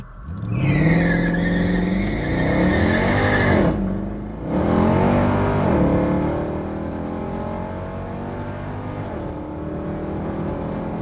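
High-mileage Mercedes C63 AMG launching hard at a drag strip in comfort mode from second gear with traction control off, its loud engine roar climbing with wheelspin, a brief dip around four seconds, then a sustained strong pull fading slightly.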